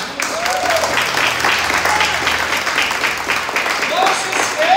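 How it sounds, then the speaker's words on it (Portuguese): A church congregation claps in praise during a worship service, steady applause lasting the whole stretch with a voice speaking over it. "Uma salva de palmas para o Senhor Jesus."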